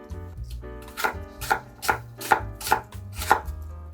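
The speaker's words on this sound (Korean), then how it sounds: "그 정도 크기로 작게 깍둑 썰기 다 해줄게요" A knife dicing apples into small cubes on a cutting board for an apple pound cake, about seven evenly spaced crisp chops, close and clear, with no talk.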